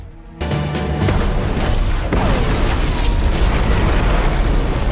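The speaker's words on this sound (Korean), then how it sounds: "거대한 폭발로 차 안의 실험용 상자를 수백 미터나 날려" A huge explosion blows apart a car carrying an experimental box in a military convoy: a sudden loud blast breaks a brief quiet, then becomes a dense, sustained roaring rumble that fills the rest of the clip.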